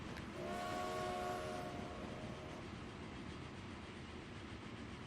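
Freight oil trains rolling along track in the Transport Fever game, a steady rumble with a horn tone sounding early, then a continuous mid-distance rolling noise with no talk.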